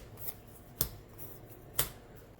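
Cards for a Gaia Project board game being shuffled give two sharp, quiet riffling snaps about a second apart, close by in a quiet room.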